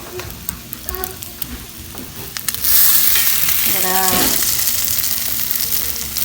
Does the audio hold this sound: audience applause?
no